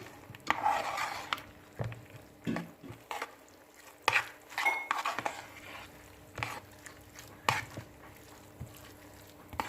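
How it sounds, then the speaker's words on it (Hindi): Peanuts being stirred into hot caramel in a pan: scattered close scrapes and knocks of a spoon against the pan, irregular and fairly quiet, with a faint hiss between strokes and no talking. "अब हम इसमें मूंगफली ऐड करेंगे और मिक्स करेंगे इसको अच्छी तरह से"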